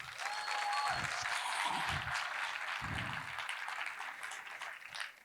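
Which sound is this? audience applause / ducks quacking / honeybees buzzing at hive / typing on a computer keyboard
audience applause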